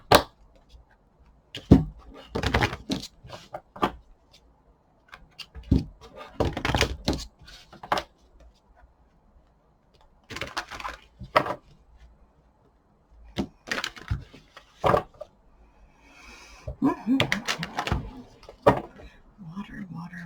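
Crisp, papery tarot card shuffling comes in short bursts with pauses between, close up, with a few soft riffles toward the end.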